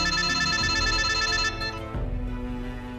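A telephone rings with a bright, steady electronic tone held for about a second and a half, then cuts off, leaving a quieter low hum and faint room sound.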